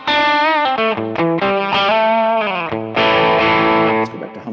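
Distorted electric guitar riff from a Yamaha RGX on its bridge pickup in single-coil mode with the mid boost turned fully up, played as loud, sustained notes and chord changes with a brief sharp lead phrase, no voices.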